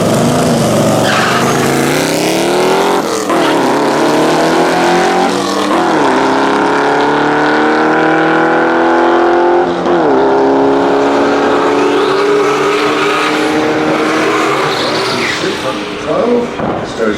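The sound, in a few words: Reliant Scimitar drag racing alongside another car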